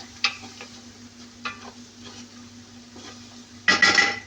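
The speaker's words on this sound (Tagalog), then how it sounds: "I-mix ko siya, mga kalods, ang ating masbos chicken" Chicken being stirred in a frying pan, with light scrapes and knocks of a utensil over a faint sizzle and a low steady hum, ending in a louder burst of scraping.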